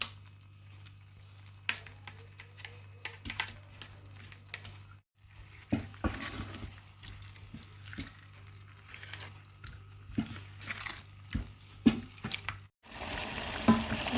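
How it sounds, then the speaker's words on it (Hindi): Spices and yogurt fry in a pot for chicken pulao, giving a low continuous sizzle with frequent soft scraping stirs and a few brief pauses, heard close with no speech. "मसाले को मैंने अच्छी तरह भून लिया है"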